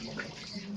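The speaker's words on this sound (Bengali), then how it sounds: "দাঁড়ো আমি হাতটা ধুয়ে দিই" Tap water runs steadily for a moment as a small child's hands are rinsed, a soft continuous wash with a faint voice underneath.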